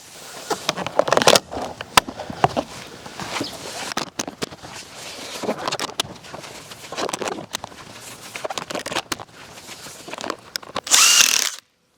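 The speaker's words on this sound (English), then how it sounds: "before you tighten it, finish it off with the bottom screws" Power driver screwing bracket screws into a horse fence rail outdoors, with short intermittent whirring bursts and clicks spread over several seconds and a louder final burst before it stops.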